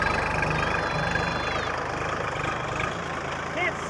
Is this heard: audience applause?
no